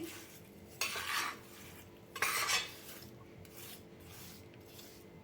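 A utensil scrapes and rubs against a pan in two distinct stirring strokes while mixing adadiya pak ingredients with jaggery, then softer scraping continues faintly.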